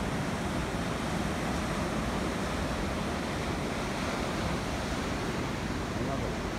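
Constant roar of ocean surf at Supertubes, Jeffreys Bay, South Africa, a dense, unbroken wash of breaking waves with some wind noise, heard at dawn.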